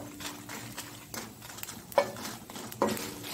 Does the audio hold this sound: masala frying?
yes